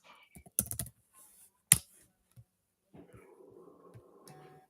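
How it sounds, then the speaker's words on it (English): Keys clatter on a computer keyboard in a few quick bursts of clicks, followed by a faint low hum. "I can hear your keyboard typing"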